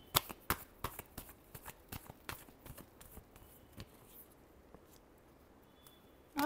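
Tarot cards being shuffled close up, a quick series of sharp, dry riffling snaps and taps that thin out toward the end, with quiet room tone between them.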